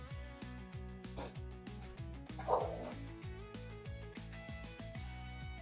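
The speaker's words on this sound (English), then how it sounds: "Sorry if you hear the noise in the background, the dogs are playing." Several dogs play in the background of a home kitchen, giving a few short, fairly faint barks and yips over steady instrumental music.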